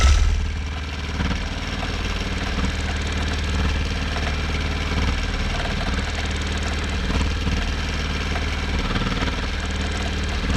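A longarm quilting machine stitching in constant motor mode, a steady mid-pitched motor hum with rapid needle vibration, close and unbroken throughout with no speech.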